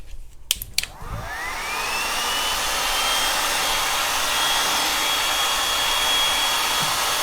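A hair dryer blows on painted cedar box, switched on after a few clicks and spinning up to a loud, steady whirring drone that holds close and unbroken.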